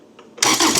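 A diesel engine on a trommel screener catches: quiet cranking noises give way abruptly to a loud, broadband engine roar that holds steady close by to the end, with no talking.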